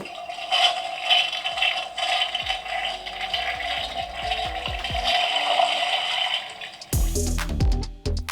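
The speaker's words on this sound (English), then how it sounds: "I did install a flush button for them." A flush button installed on a toilet in an off-grid washroom sets off a sudden loud rush of water near the end, after several seconds of light rattling and scraping.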